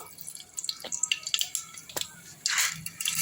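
Mustard seeds drop into hot oil in a pan for a green gram and greens rice lunch, giving a few sharp crackles and pops followed by a short sizzling burst, close and fairly loud.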